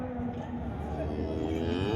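A cow lows at the Modnimb cattle market, a sustained deep moo running steadily through the clip over a busy background of market noise.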